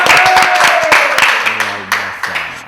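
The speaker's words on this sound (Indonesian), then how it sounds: "Tepuk tangan." Applause from a theatre audience greeting a storyteller, a dense burst of claps that stays loud for under three seconds and thins slightly near the end.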